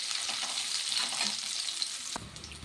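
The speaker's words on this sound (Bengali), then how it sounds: "আদাটাও ভাজা ভাজা হয়ে গেছে" Ginger frying in oil in a pan with green chilli, a soft, steady close sizzle and crackle, dropping quieter near the end.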